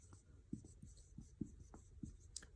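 Pen or marker writing numbers while working a decimal division problem, a series of short scratchy strokes, quiet and close, with no talk.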